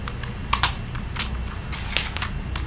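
Laptop keyboard typing, with quick uneven bursts of light clicks and taps through the whole stretch, fairly close and alone.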